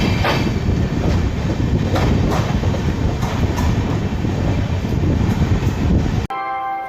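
Magadh Express rolling into Etawah Junction, a loud steady roar of wheels and carriages with rhythmic clickety-clack over rail joints, ending abruptly after about six seconds.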